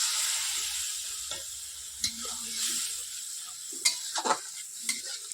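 Dal being stirred into a pan of frying tadka masala for egg tadka, with a soft sizzle under scraping spoon strokes and a few sharp clinks, close and fairly quiet.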